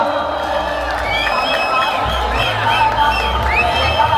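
Crowd cheering and whooping at a prize ceremony during Titwala Mahotsav 2025, honouring a brass band troupe from Thane; a dense, steady roar of voices with rising shouts holds loud throughout.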